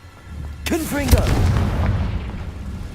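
Confringo fire spell from Hogwarts Legacy bursting in a loud, close explosive boom with a crackling, rumbling tail that lingers; a voice calls out just as it fires.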